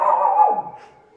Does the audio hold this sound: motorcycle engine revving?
no